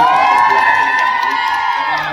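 Fashion-show audience cheering and whooping loudly, a dense, steady crowd roar with high shouts sustained throughout.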